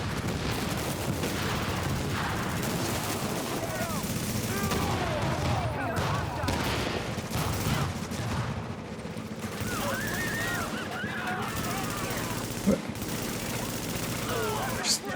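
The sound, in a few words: gunfire in a shooter video game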